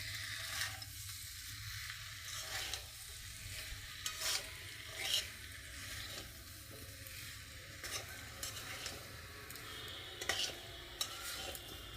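Spinach and mixed vegetables with ginger paste being stirred in a pan: soft scraping strokes over a low, steady sizzle, close but quiet, with occasional light clinks of the utensil.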